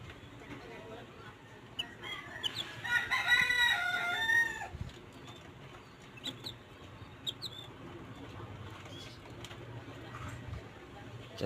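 A rooster crows clearly once on a farm raising chicks, with faint clucks and bird chirps around it and soft talk in the background.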